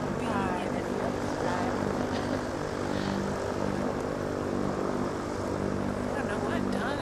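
A T-6 propeller airplane flies with a steady droning engine and prop roar throughout, heard from on board, with people talking over the noise.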